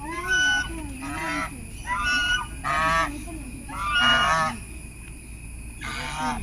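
Ducks in a shed set up for them in the rain honk loudly and close by, giving about six repeated bursts of harsh, nasal calls over a low background murmur.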